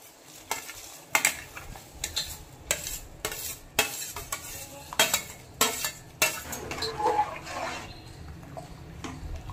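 A spoon stirs rice and lentils together in a pot for bhoger khichuri, scraping and clinking against the metal in repeated close strokes over a low bubbling, frying hiss, with no voices.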